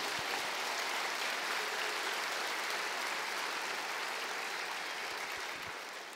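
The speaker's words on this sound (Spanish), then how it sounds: "Denle un aplauso al Señor." Applause from a church congregation during a worship service, a continuous even wash of many hands clapping, fairly distant and soft, tapering slightly at the end.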